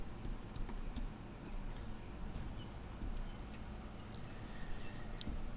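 Keys on a computer keyboard clatter in quick, uneven bursts of sharp clicks, close and fairly quiet, over a steady background hiss.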